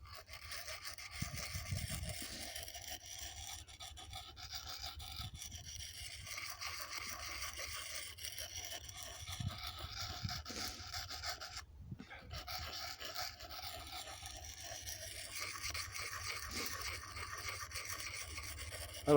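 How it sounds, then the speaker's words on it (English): A Mossy Oak knife is drawn over an axe sharpening stone outdoors in the woods, giving a faint, steady scraping rasp of repeated strokes with one brief break partway through. "So I'm gonna sharpen that up and"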